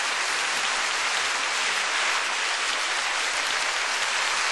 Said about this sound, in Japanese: 場内スタンディングオベーション